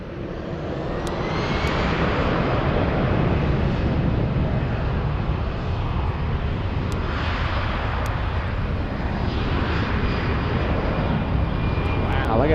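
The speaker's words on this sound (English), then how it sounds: "there goes the little CRJ" A small CRJ jet in special livery at Frankfurt Airport gives off a loud, sustained engine roar that builds and holds steadily, close by and continuous throughout.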